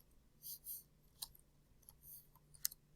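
A message typed on a keyboard: scattered soft key clicks in small bursts, close and quiet, with no voices.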